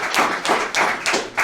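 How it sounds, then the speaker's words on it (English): Four or five loud, evenly spaced hand claps close to the microphone as a tech meetup audience applauds after a talk on OWASP ZAP, each clap sharp and separate rather than blending into a roar. "So big round of applause."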